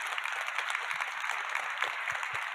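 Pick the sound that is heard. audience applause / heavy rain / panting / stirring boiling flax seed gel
audience applause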